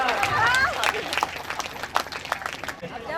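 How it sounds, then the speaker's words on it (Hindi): An audience at a Nirankari Sant Samagam claps to welcome a sadhu, a short burst of applause mixed with crowd babble and speech, fading toward the end. "जोरदार तालियों से साधु बाबा का स्वागत।"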